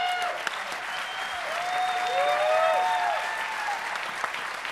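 Comedy show audience applauding, a steady, loud wash of many hands clapping with a whoop or whistle rising briefly from the crowd.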